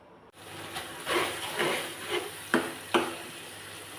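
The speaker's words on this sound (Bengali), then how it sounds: "আমি মশলাটা ভালো করে কষিয়ে নিয়েছি" Spice paste for a hilsa curry with taro roots frying in a pan while being stirred, a low sizzle broken by several scraping stir strokes, the last two sharp and close.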